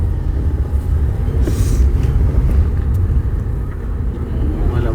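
Steady low rumble of cars and traffic in a crowded parking lot at Bannerghatta National Park, a continuous engine drone with a few faint passing swells and no clear voices on top.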